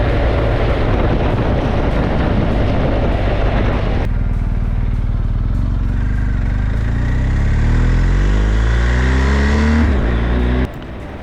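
A motor vehicle engine runs steadily on the road during a touring ride in Tasmania. It drones loudly and close, shifts into a rising, revving pitch partway through, then drops back abruptly near the end.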